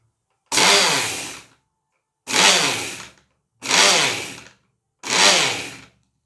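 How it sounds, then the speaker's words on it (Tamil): A blender grinding roasted sesame seeds into powder, running in four loud pulses of roughly a second each with short silent gaps between them. "அதை வந்து ஒரு பிளெண்டரில் போட்டுட்டு இப்போ மூடி நம்ம வந்து முதல்ல பவுடர் ஆக்கணும்"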